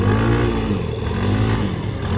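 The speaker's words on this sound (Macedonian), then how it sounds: "Толку му е јак моторот." A motorcycle engine revs hard and close, a loud, steady, throaty roar with rising and falling pitch and no voices.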